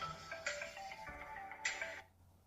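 A smartphone rings after being triggered from a Kospet Tank T4 GPS smartwatch's find-my-phone function, playing a short bright ringtone in two bursts that stops abruptly, close and moderately quiet.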